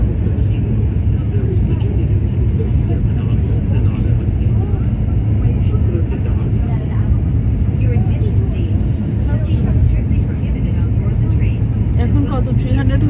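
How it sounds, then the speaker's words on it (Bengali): A high-speed bullet train between Makkah and Madinah gathering speed, a dense continuous roar and rumble filling the cabin at steady loudness, with a voice talking over it. "আস্তে আস্তে ট্রেনের স্পিড বেড়ে যাচ্ছে।"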